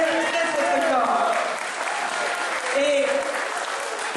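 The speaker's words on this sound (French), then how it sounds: "Avec Pierrot, vous pouvez les applaudir très fort." An audience at a town general assembly in Sauviat-sur-Vige gives the event organizer a sustained round of applause, a dense, even clapping wash lasting several seconds with a voice speaking over it.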